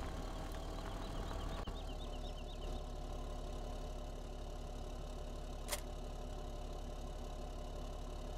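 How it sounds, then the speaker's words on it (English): A D8 tractor engine idles steadily in Farming Simulator 19, a continuous low, even rumble with a faint mechanical hum, held at a constant moderate level throughout, with a brief click partway through and no talking. "D8's been patiently idling here."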